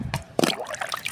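A liquid plant solution poured into water, heard as a few close trickles and splashes, small irregular bursts of dribbling and sloshing with short pauses between them.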